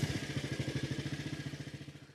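Motorcycle engine idling steadily up close, a loud rhythmic pulsing chug with mechanical clatter throughout, no voices.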